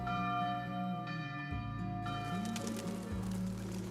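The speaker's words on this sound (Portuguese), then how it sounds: "E os sinos das igrejas que ouvia na distância diziam" Church bells ring in the distance, sustained tones that hang and overlap steadily, with a faint cooing of doves mixed into the background.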